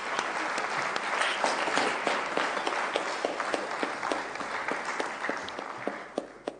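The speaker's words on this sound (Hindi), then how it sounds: "तालियां बजा के स्वागत कीजिए।" Sustained, full applause from a large crowd welcoming women being honoured at a state government awareness event, even and unbroken throughout with individual claps standing out.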